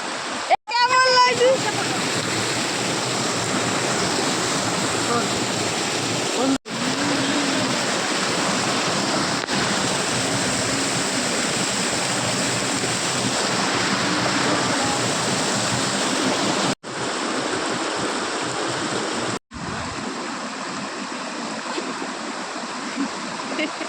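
Water pouring down all around in Darjeeling, a loud, dense, steady rushing roar with a brief voice near the start and a few abrupt cuts.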